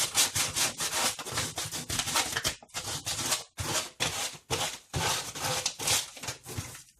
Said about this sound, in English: Dollar store sandpaper, I've had it forever.